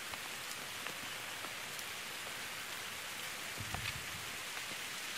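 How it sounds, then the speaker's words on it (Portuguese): Steady rain falls in Quixeramobim under dark cloud cover, a constant even hiss of drops with a few faint nearby splashes, no voices. "Quixeramobim agora nesse momento tá chovendo"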